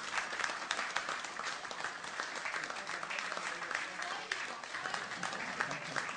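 Warm, steady applause from an audience at a memorandum signing ceremony, dense clapping from many hands sustained for several seconds at moderate distance with no voices over it.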